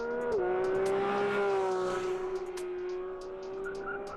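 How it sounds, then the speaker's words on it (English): A Porsche 911 GT3's 3-litre naturally aspirated flat-six, sending over 500 horsepower to the rear wheels, wails loudly and steadily at high revs, dipping in pitch briefly near the start, with no talking. "This is the tune of a 3-litre naturally aspirated flat 6 sending over 500 brake horsepower to the rear wheels of a Porsche 911 GT3."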